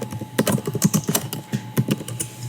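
Typing on a computer keyboard while entering text in Flexi sign software, a close run of quick, irregular key clicks with short pauses between bursts.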